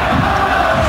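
Stadium crowd at a Real Salt Lake vs Seattle Sounders soccer match cheering and roaring, a loud, dense, sustained wall of voices filling the short moment.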